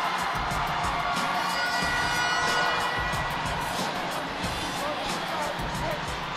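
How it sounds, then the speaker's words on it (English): Filipino fans cheering at a basketball game, a dense, continuous roar of crowd shouts and whoops, loud and unbroken, with a commentator talking over it. "there's a lot of Filipino fans not only cheering but dancing"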